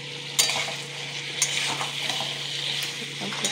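Spices are sautéed in a kadai until dry and starting to stick, giving a steady close sizzle broken by sharp scrapes and stirring strokes of a spatula, with no talking.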